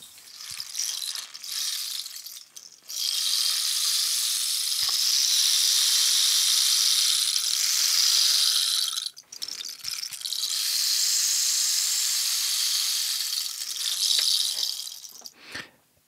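A rain stick pours in long, steady rattling cascades of tiny beads, close and fairly loud, with short breaks between turns.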